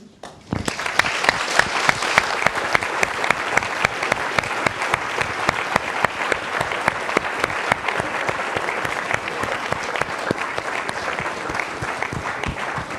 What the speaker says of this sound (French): je crois qu'ils méritent d'être applaudis